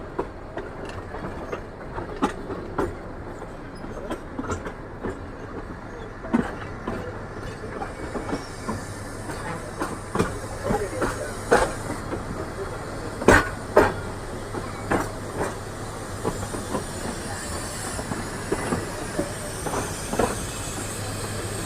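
A train on the Ooty mountain railway backs up at Coonoor station to change track, rumbling steadily with rhythmic clicks and clanks of wheels over rail joints, a faint hiss and occasional squeal throughout.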